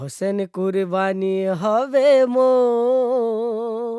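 A melodic sung vocal phrase: a few short choppy syllables, then a sustained wavering note, clean and up front with nothing behind it.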